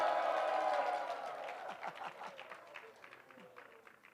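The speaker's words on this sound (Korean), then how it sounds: "이럴 때 큰 환호를 지르세요" Audience at a Korean-language teaching session cheering and applauding, a loud dense burst of clapping and shouts that fades over a few seconds into scattered claps and voices.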